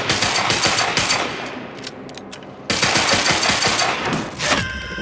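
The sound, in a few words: pistol gunfire in the video game Quantum Break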